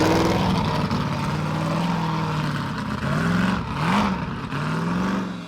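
Off-road mud racing cars rev hard through water and mud, a loud, continuous roar of engines that rises and falls with shifting pitch, close by and with no talking over it.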